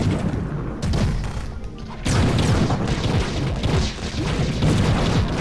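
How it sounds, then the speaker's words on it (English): Bombs going off in the video game Trove, a series of heavy, loud booms and crashing thuds that start abruptly and keep rumbling in dense clusters for several seconds. "Bombs."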